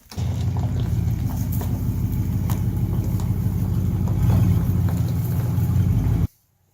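A smoky old truck engine idles steadily, a close, loud, rough low rumble with a regular pulsing beat that holds for about six seconds before cutting off abruptly.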